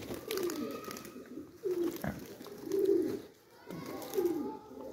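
Pigeons cooing close by in a rooftop loft, soft repeated coos in a steady rhythm, with someone talking over them and faint children's voices in the background.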